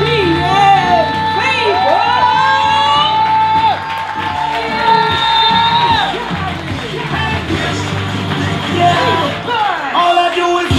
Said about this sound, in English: Y'all go ahead and start clapping and give them that right about now love.